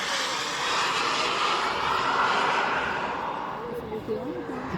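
A model Airbus A380 flying at an aeromodelling meeting: a continuous droning engine roar, steady and moderately loud, with a voice talking over it.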